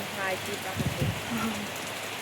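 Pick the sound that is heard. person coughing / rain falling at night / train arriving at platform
rain falling at night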